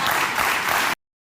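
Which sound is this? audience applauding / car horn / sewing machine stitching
audience applauding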